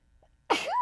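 A single sharp sneeze bursts out close and clear after a near-silent pause, trailing into a rising vocal tail.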